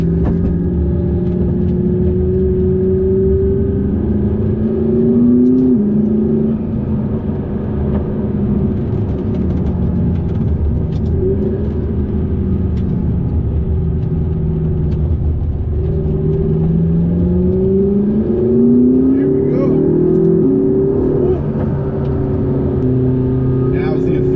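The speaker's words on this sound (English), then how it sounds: "I got the McLaren 720S in front of me." McLaren MP4-12C driving a winding canyon road behind a McLaren 720S, its engine a loud steady droning rumble from inside the car, pitch sliding up and down with throttle through the bends, with talking over it.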